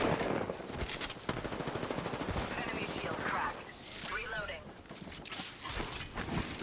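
Gunfire in a video game: rapid machine-gun bursts and scattered shots, loud and close, with rattling mechanical clatter, under talk.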